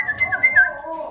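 A person whistles a short, wavering tune of rising and falling notes, close and clear, with some light background noise.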